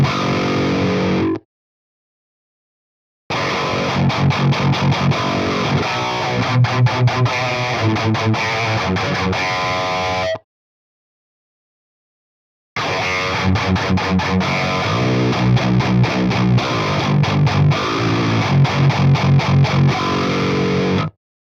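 Heavily distorted metal guitar through a Fredman Digital Fredhead amp sim plays two loud chugging riffs of palm-muted hits and ringing chords, separated by a short silence and followed by an abrupt stop.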